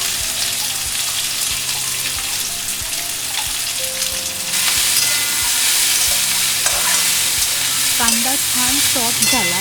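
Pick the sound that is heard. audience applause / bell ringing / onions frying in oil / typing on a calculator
onions frying in oil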